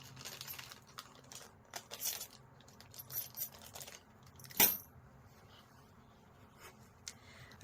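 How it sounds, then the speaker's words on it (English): Metal zippers for a quilted travel bag are handled on a work surface, giving scattered light clinks and rattles with one sharp metallic clack midway, close and fairly quiet between taps. "So I'm grabbing 2 zippers."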